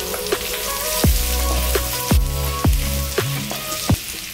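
Cumin and a cup of chopped carrot fry in melted ghee for egg fried rice, a steady close sizzle broken by several sharp clacks and stirs of a spoon against the pan, with no voices.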